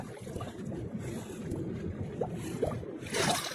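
Low rumbling wash of a boat moving through water in Minecraft survival, with splashes and a gust of wind noise near the end; no speech.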